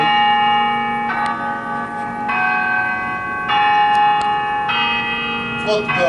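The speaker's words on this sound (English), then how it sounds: "let the bells ring." Church bells ring loudly and steadily, with sustained resonant tolls repeating roughly every second or so and overlapping into a continuous bright peal, close to the listener.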